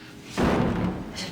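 A battering ram slams into a door in an X-Files police raid scene, one heavy booming thud followed by a rumbling decay and a muffled knock, with voices nearby.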